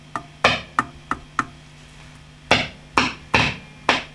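A JJ ECC83 preamp valve in a Marshall JTM45 MKII Model 2245 amp is tapped, and each tap sets off a sharp crackling pop through the amp, about nine loud, close hits at uneven intervals over a faint hum.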